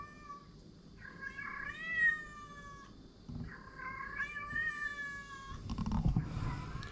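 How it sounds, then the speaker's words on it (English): A stray cat near a workshop gives two long, rising-and-falling meows close by, separated by a pause, followed by some low rustling and handling noise. "You right there, little cat?"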